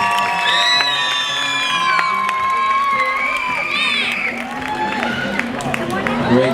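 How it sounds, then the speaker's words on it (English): A lively crowd at a tiger show at Six Flags Discovery Kingdom cheers and shouts with children's excited voices, whoops and scattered clapping, loud and continuous throughout, as a tiger jumps over another. "give a nice big round of applause for Mishka as she jumps over Maxim."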